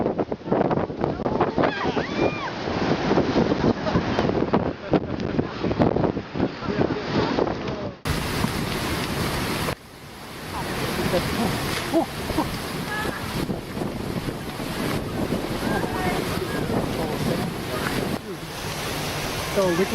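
Ocean waves surge and crash on a shore in a continuous loud roar, mixed with heavy wind buffeting the microphone, and voices are faintly present at times.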